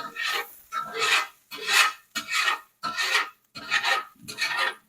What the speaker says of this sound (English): So a well-seasoned cast iron pan, that's all you have to do to clean it.